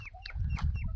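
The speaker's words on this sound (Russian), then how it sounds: "Цыплят осталось у нас не так много." Chickens cluck softly in short, scattered calls close by on a farm, with low rumbling background noise and no talk.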